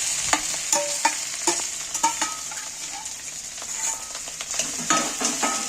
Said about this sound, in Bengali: ভাঙা আলুগুলো আমি তেলের মধ্যে তুলে দিচ্ছি